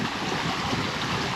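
Water of two small creeks near Glen Falls, a steady close rushing and burbling wash with no talk.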